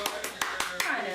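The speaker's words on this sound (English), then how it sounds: "If you clap your hand, it doesn't echo." Five sharp hand claps ring out close by at a quick, even rhythm, each a crisp separate snap with a short tail after it.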